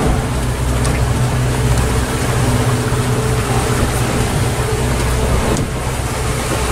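A motorboat engine revs hard at speed on a coastal run near Port-Camargue, a loud steady drone mixed with rushing water and wind throughout.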